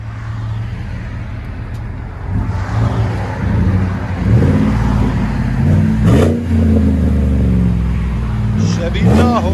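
A 2017 Chevy Tahoe Z71 with a 5.3L V8 and 14-inch Magnaflow dual exhaust idles low at first, then revs repeatedly with deep rising and falling engine roars close by.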